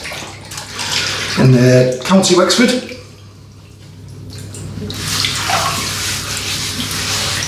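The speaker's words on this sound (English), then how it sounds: "Ooh, that's nice hot water." Hot water running from a tap into a hotel sink, a steady rushing splash that grows fuller and louder partway through, with someone speaking briefly over it.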